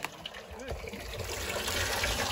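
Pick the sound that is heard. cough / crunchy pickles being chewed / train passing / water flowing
water flowing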